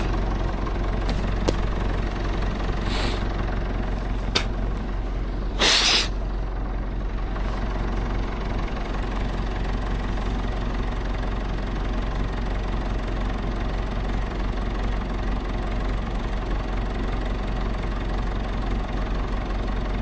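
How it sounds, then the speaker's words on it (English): A small tractor engine idles steadily and close by throughout, with a brief louder clank near the middle. "this tractor is good for like small jobs like this"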